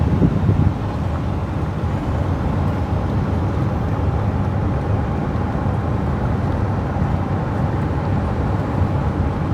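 Strong wind from a storm roars steadily against the microphone, a dense low rumble with no letup for the full length.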